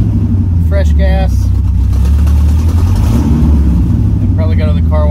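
A 1972 Camaro resto-mod with an exhaust leak runs close by, its engine rumbling steadily with slight revving, while someone talks over it at intervals.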